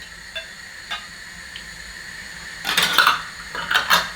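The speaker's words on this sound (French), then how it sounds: "on va mettre les couvercles sur nos bocaux" Metal lids set onto glass canning jars of homemade ratatouille: a few light clinks early on, then a cluster of sharper glassy clatters near the end, close and fairly quiet.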